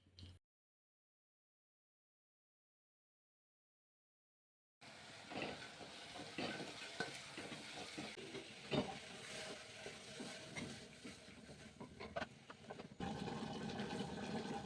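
Chopped mixed vegetables go into a hot pan for a vegetable palya. About five seconds of silence give way to a sudden, loud, steady sizzling hiss with scattered scraping clicks that continues to the end.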